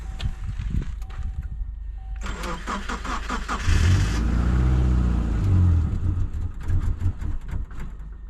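A 2000 Subaru Impreza cranks over with a brief starter whir, catches and fires, then revs loudly in rising and falling swells before settling toward a rougher idle, close up with no talking.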